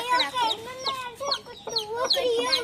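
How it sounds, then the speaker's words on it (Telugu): A hen clucks repeatedly in short, rhythmic bursts, close and fairly clear, with some quieter chirps around her. "ఇది పెద్ద కోడి కోడి."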